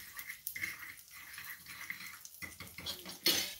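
Bluegill pieces being tossed with Tony's seasoning for panfrying, a utensil clinking and scraping steadily against the dish, with a sharper clatter near the end and no talk.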